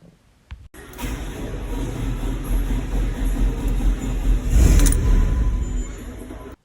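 A truck engine cranks and catches after a battery and starter replacement, then settles into a loud, steady low rumble close by that swells briefly toward the end.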